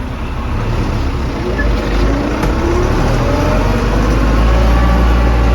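A tractor pulling a rotary seeder across a field in eighth gear at about 15 km/h gives a steady, loud engine drone with broad rumbling noise that holds throughout.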